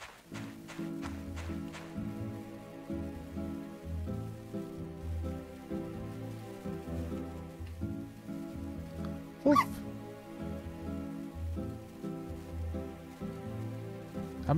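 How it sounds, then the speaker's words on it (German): A dog in the farming game My Time at Portia, heard as faint game barks and whimpers over a steady looping music bed with soft rain-like ambience, distant and low in the mix. "Stimmt, da ist das Hundchen."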